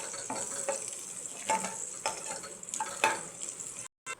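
Chilies, mustard seeds and cumin crackling in hot oil as they are stirred, a quiet steady fry broken by spoon scrapes and small pops, ending in a brief cut to silence.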